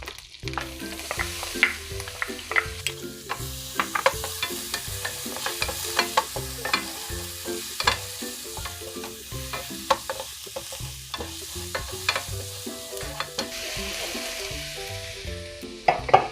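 Garlic frying in a pan of oil and butter, with a steady crackling sizzle and repeated scraping stir strokes running throughout, fairly close, with no talking.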